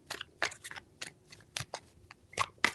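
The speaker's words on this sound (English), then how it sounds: "3 shuffles." Tarot cards shuffled by hand, giving a quick run of sharp, close riffling snaps and rustles in uneven bursts, with no voices.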